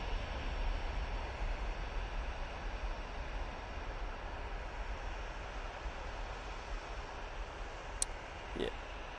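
An EasyJet airliner takes off at Manchester Airport, its broad engine roar steady and fairly distant throughout, with a brief sharp click near the end.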